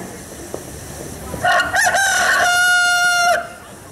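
A rooster crows once, loud and close, a long rising-and-falling cock-a-doodle-doo over a quiet background.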